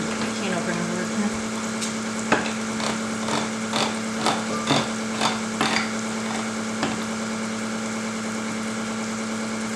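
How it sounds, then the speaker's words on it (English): A can opener works on a can of tomato sauce under a steady electric motor hum, with a series of sharp clicking ratchet ticks close by. "Can opener working."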